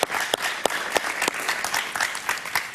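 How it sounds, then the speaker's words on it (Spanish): Studio audience applause welcoming a guest on a Miami talk show, a dense burst of clapping with several loud, close individual claps popping out of the steady crowd sound. "Un aplauso para Eduardo, por favor."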